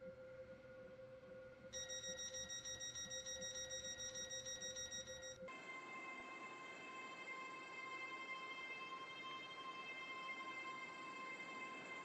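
A steady mechanical rumble inside a Class 801 train in the game Stepford County Railway, with sustained tonal hums, shifting abruptly partway through as a higher electronic tone joins, fairly quiet throughout.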